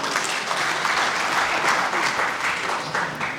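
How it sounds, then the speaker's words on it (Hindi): Audience applause fills a hall after a speech at a public event, dense steady clapping from many hands, loud and continuous for several seconds before tapering slightly. "जोरदार तालियों से स्वागत करिए"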